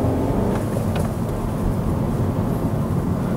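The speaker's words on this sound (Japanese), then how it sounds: "まあ、ちょっと2速に行きますね。" Inside a moving Skoda Yeti with a manual gearbox, a steady low engine and road rumble fills the cabin, close and loud, with faint clicks near the one-second mark as the shift into second gear is made.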